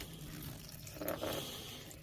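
Water trickles from a small watering can into a 45-litre plastic storage box used as a propagator, a soft steady pour that swells briefly in the middle, quiet and close.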